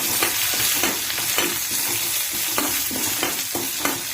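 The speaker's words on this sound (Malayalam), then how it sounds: "നമ്മൾ അതിലേക്ക് 2 തണ്ട് കറിവേപ്പില ഇട്ട് കൊടുക്കാം." Curry leaves sizzle and crackle in hot oil with browned urad dal, a loud, dense frying hiss punctuated by sharp spattering pops and occasional stirring scrapes, with no talk.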